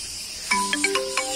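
A phone ringtone for an incoming call plays a bright electronic melody of short repeated tones, starting abruptly and fairly loud over a quiet outdoor hum near a forest guard recruitment ground.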